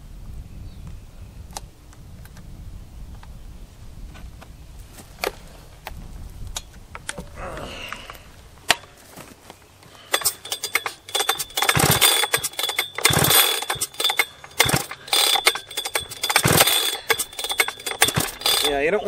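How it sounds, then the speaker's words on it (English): An engine-powered chainsaw being started with the choke on, a few scattered pulls and clicks giving way to loud sputtering engine bursts that catch and die repeatedly, with a voice talking early on. "let's go ahead and get the saw fired up and see if we can cut some wood today"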